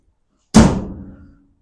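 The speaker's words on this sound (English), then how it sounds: "I want to see what it looks like with the door closed from over here." A door on a 1929 Chevrolet coupe being converted to a roadster, fitted with custom metal door panels, swings shut in one solid, close slam that rings briefly and fades out within about a second.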